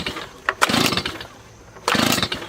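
Small engine being pulled over, catching in two short bursts of sputtering, rattling running with a quiet gap between them, close by.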